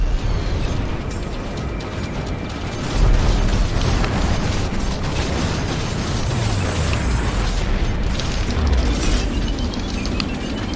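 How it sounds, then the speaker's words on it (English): A spaceship blows apart in the space combat game Strike Suit Zero: a loud, sustained rumbling blast with crackling bursts that swells about a third of the way in and roars on without letup. "Ship annihilated."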